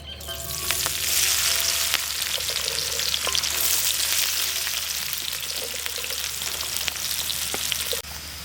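Chopped shallots and onions sautéing in oil left from frying fish for a Kerala-style fish pollichathu, a steady loud sizzle with occasional stirring clicks and scrapes running throughout, no voices.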